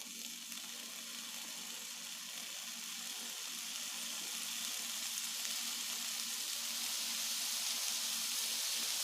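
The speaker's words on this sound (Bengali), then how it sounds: "তেলটা গরম হয়ে গেছে, তাওয়া ভালো করে গরম হয়ে গেছে। বেগুনের পিসগুলো বসিয়ে দেব।" Pieces of eggplant sizzle in hot oil on a heated tawa, a steady, even crackling hiss that holds for several seconds with no voices over it.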